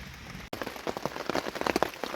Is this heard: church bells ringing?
no